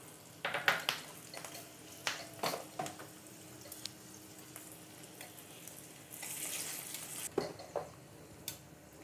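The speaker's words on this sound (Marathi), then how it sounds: "त्याही या फोडणीमध्ये आपण घालतो." Red chillies, seeded and broken, crackling in a small pan of tempering oil for Aambe Dal, with scattered pops and clinks of a spoon over a low steady sizzle, fairly faint and close, no talk.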